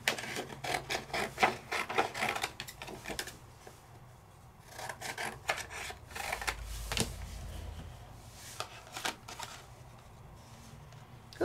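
A Sizzix machine runs white paper through with a center embossing die, giving repeated dry rubbing, rasping bursts with short pauses between passes, close and fairly quiet, with no talking.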